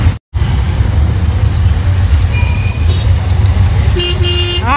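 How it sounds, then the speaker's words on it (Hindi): Heavy evening traffic fills a crowded Andheri market street, a dense, continuous rumble of engines with car horns tooting now and then, one longer honk sounding near the end. "ये अंधेरी मार्केट में इस टाइम बहुत ट्रैफिक है"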